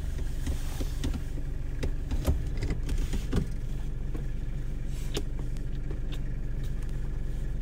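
A 1991 Toyota Hilux on a short drive, its engine a steady low rumble throughout with a few brief clunks and taps inside the cab early on.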